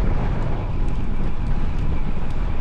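Sideways wind gusting across a cyclist's microphone on a long windy ride, a steady close rumbling roar throughout with no voices.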